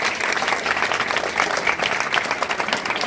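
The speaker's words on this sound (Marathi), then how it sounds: "आपल्या अमर काकांसाठी शेंद्रे सरांसाठी जोरदार टाळ्या" Audience applause at a Marathi literary gathering session, a steady dense wash of many hands clapping continuously throughout, loud and close with no pauses.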